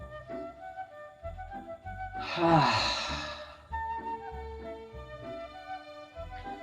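A deep, breathy inhale and exhale during a Christmas Eve yoga session, one long airy breath rising and fading mid-clip, close and clear over quiet background music.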